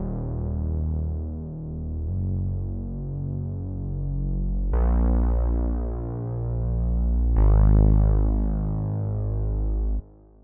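A synth lead for a modern zouk and kizomba track, built in Logic Pro X, plays alone as smooth sustained tones that step between pitches and get brighter partway through, with no drums or other instruments, then stops abruptly.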